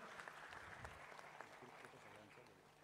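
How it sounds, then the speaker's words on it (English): A conference crowd claps steadily throughout, dense and even, with a voice speaking faintly underneath. "Ladies and gentlemen, a round of applause."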